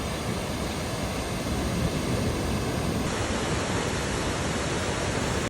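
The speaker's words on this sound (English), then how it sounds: "I don't think I've ever stood this close to a waterfall before" A waterfall in Alaska heard from very close, a dense, constant roar of rushing water that holds steady throughout and then cuts off abruptly at the very end.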